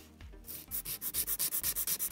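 A nail file works a fingernail into an almond, oval-style shape, giving a steady run of about a dozen quick, even rasping strokes, close and clear with no talk.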